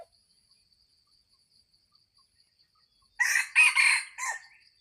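A hen clucks several times in quick, close bursts after a long near-silent stretch with a faint steady insect trill, with no voices present.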